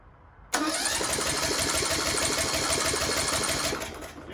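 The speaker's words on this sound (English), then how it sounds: "I don't like to run a compression test on these motors until I spin them over and get some lubrication, some oil up inside the cylinder walls." A lawnmower engine spins over steadily without firing, cranked ahead of a compression test, giving a loud, continuous rhythmic churning that starts abruptly and runs about three seconds before easing off.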